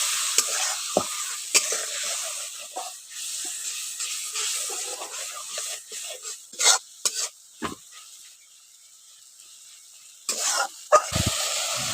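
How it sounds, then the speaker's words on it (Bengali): Ginger-garlic masala paste fries in a pan with a little water added, giving a steady close sizzle and hiss broken by occasional scraping stirs, with a quieter stretch near the end before stirring picks up again. "অল্প করে জল দিয়ে মশলাটা একটু ভালো করে কষে নিচ্ছি।"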